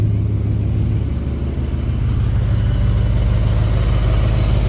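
Ford XA Fairmont GS engine idling through a newly fitted exhaust, a loud, steady, close low rumble with an even throb that holds without a break for several seconds.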